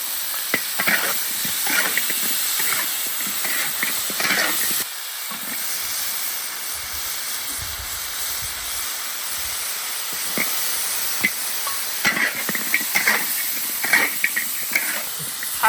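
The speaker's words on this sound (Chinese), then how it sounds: "所以的话就把姜蒜、干辣椒爆香" Dried chilies, ginger and garlic stir-fried in a hot wok for braised pig's head meat, giving a steady hiss with scattered crackles and spatter bursts, fairly close and continuous.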